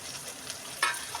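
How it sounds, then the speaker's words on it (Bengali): Something frying with ground spices in a pan, a soft, faint sizzle with a brief louder burst of crackle partway through as it is stirred, no voices. "এটাকে আমি ভালো করে মশলার সঙ্গে ভাজবো।"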